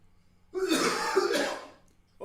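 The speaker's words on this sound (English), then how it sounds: "You can hear him coughing from a mile." A loud, raspy cough, a couple of rough hacking bursts run together, close up against a quiet background.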